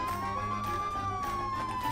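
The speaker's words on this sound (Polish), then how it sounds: "Ale już syreny wyłączymy." A police car siren in a video game wails as one sustained, slowly rising and falling tone over a low engine hum, steady at moderate volume throughout.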